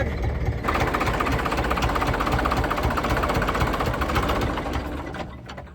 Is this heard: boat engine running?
yes